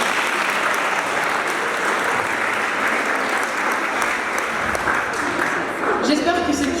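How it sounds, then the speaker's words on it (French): Sustained audience applause at a French project presentation, a dense continuous wash of clapping from a crowd, ending with a few louder, closer claps. "Un tonnerre d'applaudissements, s'il vous plaît, pour ça."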